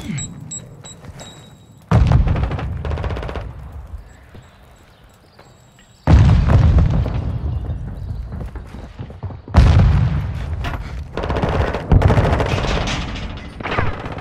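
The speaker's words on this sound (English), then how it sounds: "Enemy precision airstrike." Precision airstrike explosions from the video game Call of Duty Modern Warfare 2: repeated loud, heavy booms and rumbling blasts that come in three bursts with short lulls between them, close and dominant, with no talk.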